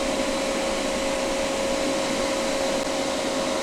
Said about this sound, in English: I'm going to turn my reclaimer on, so it's going to be noisy.